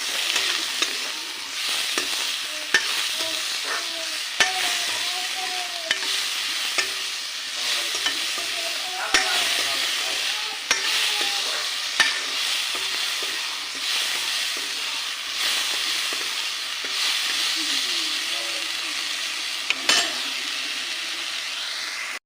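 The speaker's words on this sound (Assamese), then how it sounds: "মই নিমখ দিলোঁ, এনেকৈ অকণমান লৰাই দিম এতিয়া।" Salted dal cooking in a pan while being stirred, with a loud, close, continuous frying hiss and sizzle, punctuated by regular scraping and tapping clicks of the spoon against the pan, and no voices.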